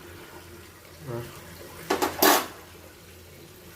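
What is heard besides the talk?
tea water boiling in a pot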